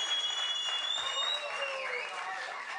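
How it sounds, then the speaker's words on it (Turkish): A studio audience at the Turkish talk show İki Laf Edelim applauds for Ferdi Ünal, giving a steady wash of clapping at moderate-to-low level across the whole stretch, with a voice faintly present underneath. "Sevgili Ferdi Ünal'a kocaman bir alkış istiyorum"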